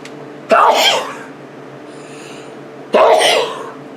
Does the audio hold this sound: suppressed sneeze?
yes